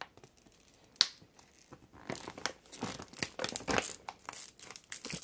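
Scissors cut through a folded plastic grow bag for yams, giving crisp snipping and crinkling plastic sounds, with a sharp snip near the start and then a run of rustling cuts close by.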